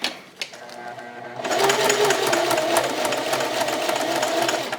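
Close, steady whirring of a sewing machine as it stitches a zipper along a curved seam, starting after a brief quiet moment and running continuously with no talking.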